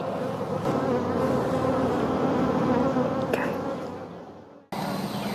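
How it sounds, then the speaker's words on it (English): A dense, steady drone of many honeybees buzzing close by inside a hive that had rolled over, holding loud for a few seconds before briefly fading and returning. "There's still lots of bees in there."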